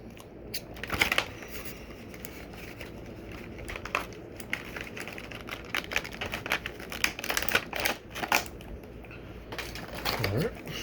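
Scissors snip and crackle through plastic action figure packaging in a series of uneven close clicks and rustles, with someone talking quietly between cuts.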